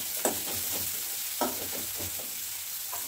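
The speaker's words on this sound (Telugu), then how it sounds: "ఇవి మంచిగా ఫ్రై కావాలి." Onions with salt being stirred and fried in a pan during festival cooking, soft sizzling with scraping stir strokes recurring at an uneven rhythm, fairly quiet and close, no voices.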